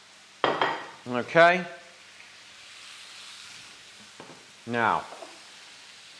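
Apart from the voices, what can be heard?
sausages sizzling in a pan for tray bake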